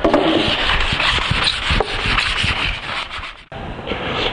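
Steady rasping strokes of sandpaper rub across the wood of a wall shelf being built, close and continuous, with a brief pause near the end before the scraping resumes.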